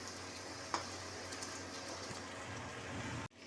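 Potatoes with a little added water cook in a covered pan, giving a steady hissing sizzle with a soft bubbling undertone, close and continuous, with a small knock partway through and an abrupt cut near the end.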